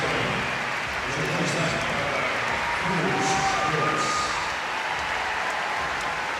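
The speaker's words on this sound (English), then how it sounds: "Nice round of applause there for Cruz Hewitt" A tennis crowd gives a warm, steady round of applause for player Cruz Hewitt, an even wash of clapping that runs unbroken throughout, with a voice talking over it.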